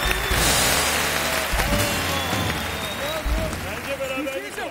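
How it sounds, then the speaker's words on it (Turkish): Studio participants on a Turkish TV game show where celebrities explain words with emojis clap in applause, a dense, steady wash of claps that stays loud throughout, with voices mixed in. "Alkış, alkış."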